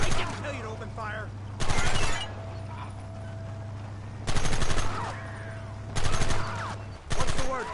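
Machine gun fire in the video game Red Dead Redemption: four loud sustained bursts of rapid automatic shots, separated by stretches of background din with a steady low hum and distant voices.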